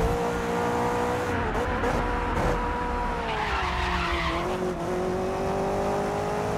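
Race car in a racing video game braking hard into a corner, engine note sliding down in pitch with tire squeal and skidding, loud and close with no talk.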